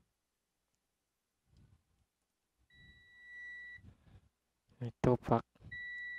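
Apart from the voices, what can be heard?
multimeter tester continuity buzzer beeping on shorted graphics card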